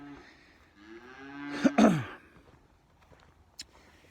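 Cattle on a farm fed alfalfa hay give one loud, drawn-out moo near the microphone, with a faint lower call before it and quiet farmyard sound after.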